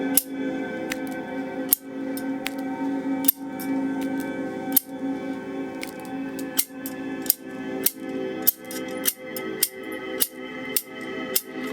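Scissors snip again and again in sharp, crisp cuts, about a dozen of them spaced at irregular intervals and growing quicker toward the end, heard close up over a sustained droning musical tone.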